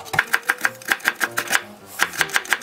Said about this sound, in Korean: 당근은 고명으로 조금만 썰어서 제가 넣겠습니다